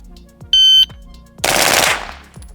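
A 9mm submachine gun fires a single dense burst at close range, a loud, sustained rattle of rapid shots lasting about half a second before tailing off, preceded by a short electronic beep of a shot timer.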